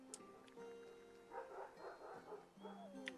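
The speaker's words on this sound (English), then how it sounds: "I thought I heard wolves, but I see a literal horde of dogs going around to mess up any wolf's day" Several dogs bark and yip in the game Clanfolk, a few brief, mid-level calls scattered over a quiet background hum with tonal game sounds.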